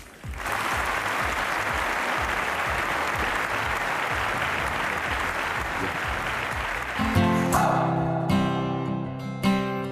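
Sustained crowd applause at the Miss Turkey 2015 pageant as finalists are invited onstage, loud and dense, fading as music with a beat begins near the end.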